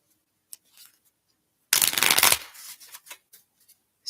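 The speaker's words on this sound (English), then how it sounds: "A good shuffle." A deck of cards being shuffled up close, one dense riffling burst of about three-quarters of a second, followed by light handling clicks and faint rustles in an otherwise quiet room.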